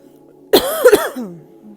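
A short burst of coughing, a couple of harsh close-up coughs in quick succession that trail off into a brief throaty hum.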